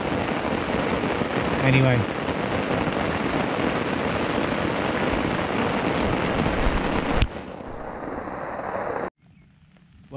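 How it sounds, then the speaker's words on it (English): Steady heavy rain on a river bank during a summer evening thunderstorm, a dense close hiss filling the first seven seconds before dropping to a quieter patter; a voice speaks one brief word. "I've probably spent as much time watching the rain and the thunder as I have actually fishing"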